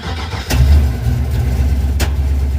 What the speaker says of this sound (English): A little bit of backfiring, but it started.